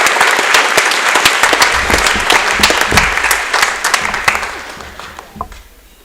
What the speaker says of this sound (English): You may now clap.